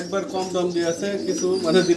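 Pigeons coo repeatedly in soft, rolling calls, close by, on a pigeon farm where fancy pigeons are kept. Someone talks over the birds the whole time.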